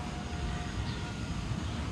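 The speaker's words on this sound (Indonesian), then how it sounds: "Ini drone-nya nggak terlalu goyang parah." An MJX B5W 4K Edition drone flies with its GPS switched off, drifting in the wind; a steady, continuous motor whine sits over broadband rushing noise for the whole stretch, with no talk.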